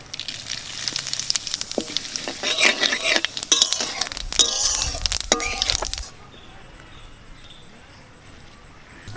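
Cumin seeds sizzle loudly in hot oil in a pan of mutton curry, a dense crackling frying hiss with stirring clatter for about six seconds, then dropping to a faint low hiss.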